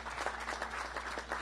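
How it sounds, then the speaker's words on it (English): Audience applause at a governor's announcement of a valve pump manufacturing plant expansion, a brief burst of many people clapping in a large room, steady and moderately loud with no talking. "Let's give that a great round of applause."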